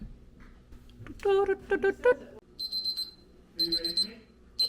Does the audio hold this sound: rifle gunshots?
no